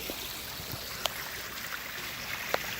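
Water trickles steadily in a pond stream outdoors, a soft continuous rush with occasional small splashes and drips popping out, moderately close, with no voices.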